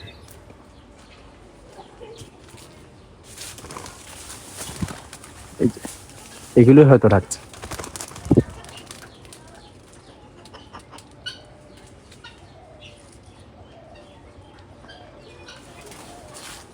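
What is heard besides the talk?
doves calling on a farm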